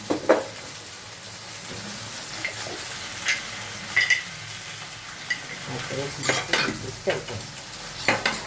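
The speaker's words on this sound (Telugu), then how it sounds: "కారం వేసి కలపడాలి." Chili powder being stirred into an okra curry in a pan, a run of scraping spoon strokes over a soft sizzle, with clattering knocks against the pan coming at irregular intervals.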